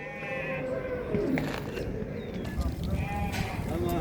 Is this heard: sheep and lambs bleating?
yes